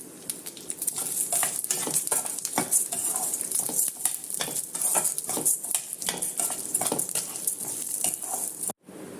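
Urad dal and toor dal roasting in a little oil for chammanthi podi, with a constant crackling sizzle and continual scraping and stirring of a spoon against the pan, close and busy throughout.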